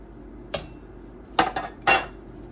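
A metal spoon clinks and scrapes against a pot three or four times while chicken and dumpling dough is stirred, sharp brief knocks separated by quiet pauses.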